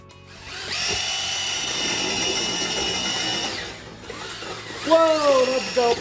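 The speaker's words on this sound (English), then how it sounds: "This is what I'm gonna put on my drill to mix it all up." Power drill with a mixer attachment stirring mortar in a large mixing bucket, a steady high whine for several seconds, a brief stop, then a rising, wavering revving burst.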